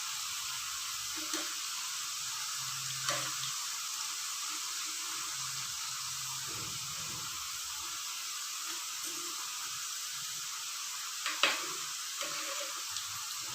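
Thin rice-flour ribbon pakodi frying in moderately hot oil, a steady soft sizzle running throughout with a few faint stirring clicks and light knocks.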